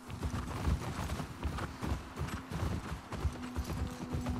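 Horse hooves clip-clop in a steady walking rhythm in the video game The Last of Us Part 2, close and continuous over a dense ambient background with faint creaks of movement.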